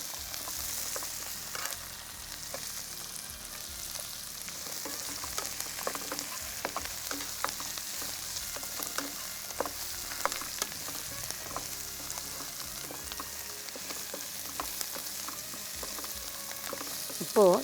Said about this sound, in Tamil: இப்போ இது வதங்கியிருக்கு இல்லையா, வதங்கிட்டுருக்கு இல்லையா, அதில் நம்ம புளி போட்டிருக்கோம்